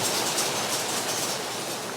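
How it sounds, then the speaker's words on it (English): Steady, dense pattering hiss of hail falling outside, a continuous broadband rattle with no pauses, fairly loud and even throughout. "I don't know if you can hear that, but it's hailing outside."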